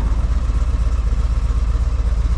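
A motorcycle engine idling near Amalfi, a steady low throbbing rumble with an even rapid pulse, close and loud with no voices over it.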